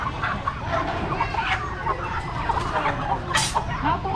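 Chickens cluck and squawk nearby at a busy street market in Tan Phu, Vietnam, with short repeated calls over crowd murmur while people talk in the background.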